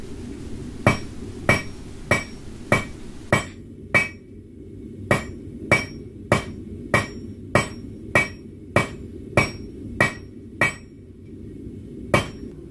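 A blacksmith's hammer strikes a steel bar while tapering its end, ringing out in about seventeen sharp, evenly spaced blows, close and loud, with no talking.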